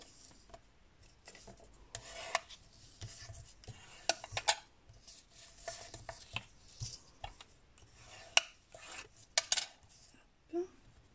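Paper being creased into folds for a scrapbooking mini album, with close rubbing and scraping strokes and soft taps in irregular bursts, fairly quiet and without talk.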